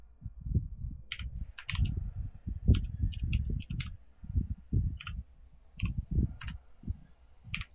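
Keyboard typing at a computer while adjusting Star Citizen graphics settings: quick, irregular clusters of sharp key clicks, close and fairly clear, over a low steady background hum.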